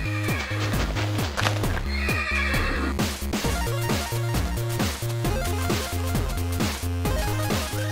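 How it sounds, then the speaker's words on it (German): A horse in a video game whinnies and neighs over steady, regular clip-clop hoofbeats, the game sounds loud and close with no talk over them. "Da ist ein Pferd im Baum."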